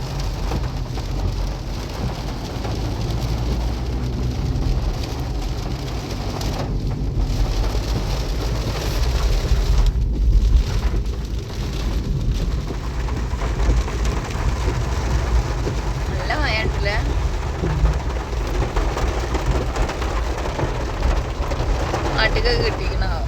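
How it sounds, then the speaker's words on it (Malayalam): Heavy rain pours down steadily near Nilambur, Kerala, a dense, loud hiss of drops drumming on surfaces, with a person talking faintly underneath. "നല്ല മഴ പെയ്യുന്നുണ്ട് കേട്ടോ"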